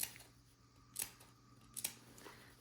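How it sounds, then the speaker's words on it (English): Scissors snip into the fabric seam allowance on a child's raincoat hood, two crisp close cuts standing out against a faint quiet room. "I'm just going to snip into the seam allowance here"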